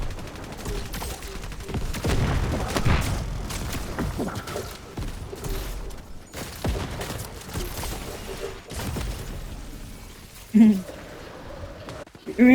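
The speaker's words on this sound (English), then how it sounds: "Stick your grenade launcher and double pumping it right into somebody." Grenade launcher blasts and double-pumped shotgun shots go off in a video game, with bursts of gunfire, thumps and booms scattered unevenly through the clip alongside a talking voice.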